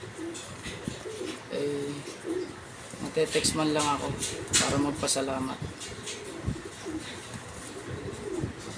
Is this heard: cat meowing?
no